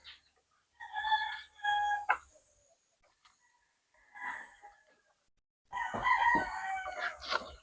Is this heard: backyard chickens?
yes